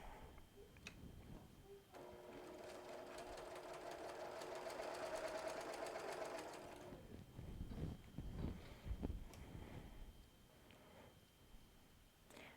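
A sewing machine stitches a seam in one steady, continuous run of about five seconds, close and fairly loud, then stops, followed by quieter handling noises.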